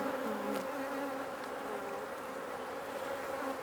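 Honey bees buzzing in an open hive during an apiary inspection, a dense, continuous close drone with no talk over it.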